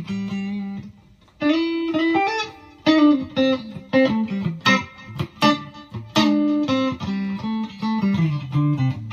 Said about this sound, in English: So that's a neck pickup.